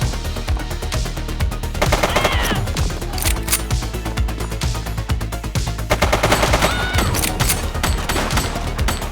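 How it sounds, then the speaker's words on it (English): Rapid automatic gunfire from a police shooter game set in a city precinct, loud sustained bursts with dense overlapping shots and a few heavier impacts over about nine seconds. "She's shooting!"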